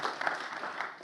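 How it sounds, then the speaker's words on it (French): Brief burst of applause from an audience at a French regional awards ceremony, a short patter of clapping at moderate level. "Sous vos applaudissements à Stéphane."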